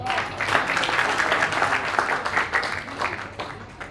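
A crowd at a Diwali get-together claps steadily and enthusiastically throughout, a dense, even wash of applause that never breaks.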